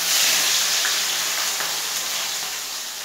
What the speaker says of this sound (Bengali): পেঁয়াজটাকে আমি ভালো করে লাল করে ভেজে নেব।